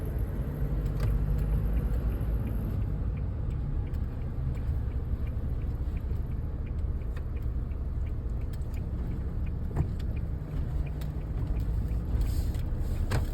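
A Toyota Revo drives and turns left, heard from inside as a steady low engine and road rumble with faint ticking and small knocks, and no voices.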